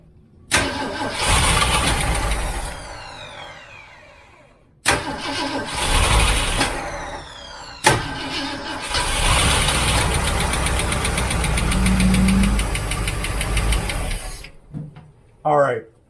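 A 1967 Ford Mustang Fastback 390 V8 cranks and catches three times, each start revving up into a loud, rough-running roar with smoke from the exhaust before cutting off; a voice speaks briefly near the end.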